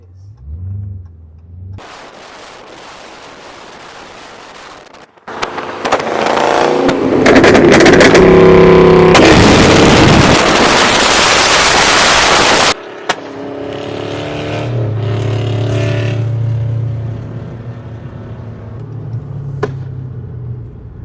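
A tuned Dodge Charger R/T with a 5.7-liter engine rumbles at idle, then breaks into loud, close revving bursts before dropping back to a deep, throaty idle.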